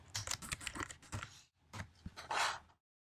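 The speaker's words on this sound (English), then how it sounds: "here is where you type your essay" Quick bursts of typing on a computer keyboard, fast clusters of key clicks with a short pause midway, close and fairly quiet.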